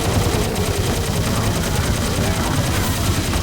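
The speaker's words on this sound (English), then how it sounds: "this minigun turret has unlimited ammo, so don't worry about running out of ammo or anything" Minigun turret in Serious Sam 2 firing nonstop, a loud dense rapid-fire roar that holds steady throughout without any pause.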